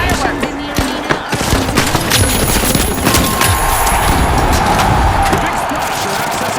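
Dense crackling bursts and rapid pops fill an arena in the game The Finals, continuous and loud, layered with engine rumble and game announcer voices throughout.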